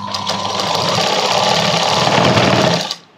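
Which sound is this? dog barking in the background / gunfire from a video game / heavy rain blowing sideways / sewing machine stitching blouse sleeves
sewing machine stitching blouse sleeves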